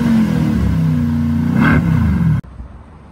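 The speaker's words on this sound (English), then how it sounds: "the new exhaust system gives it a very, very nice throaty sound" Mercedes C63 AMG saloon fitted with an upgraded exhaust gives a loud, close, throaty engine rumble that swells briefly as it revs, then cuts off abruptly, leaving near silence.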